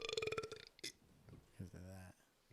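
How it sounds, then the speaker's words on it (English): Burps on a podcast, the first a long voiced belch with rough, strained tones, a quick sharp one after it, then a deep sustained belch, with a bit of talk between them. "I burping, just burping."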